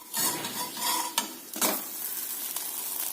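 Rava dosa batter sizzles and crackles on a covered hot pan, a steady close frying hiss with a few light clicks of a utensil against the pan, no voices.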